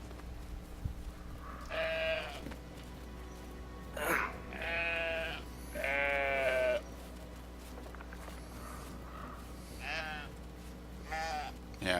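Sheep bleating in the video game Brothers: A Tale of Two Sons, several drawn-out, wavering bleats in separate bursts over a steady low game hum, close and fairly loud.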